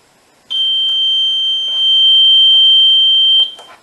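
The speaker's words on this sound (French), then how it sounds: "on va faire une alarme en réel" A Finsecur Type 2 fire alarm panel sounds a loud, steady high-pitched electronic tone for about three seconds, with faint clicks along the way, in a quiet room.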